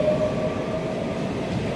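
A train at Delft station in the Netherlands, a continuous loud rumble and rolling roar with a faint steady tone above it and no talking.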